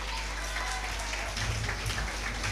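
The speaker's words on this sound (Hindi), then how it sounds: "तालियां बजते रहना चाहिए." Audience clapping continues at an Independence Day celebration and talent show final, a steady hiss-like patter of many hands over a constant low hum.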